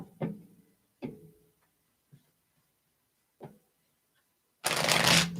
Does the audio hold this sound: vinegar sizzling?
no